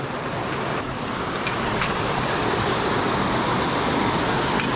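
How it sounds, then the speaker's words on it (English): Turbulent mountain stream rushing close by on a hiking trail, a steady, dense roar of churning water with constant broadband wash and no talking. "It is cool down here right by the stream. All the turbulence."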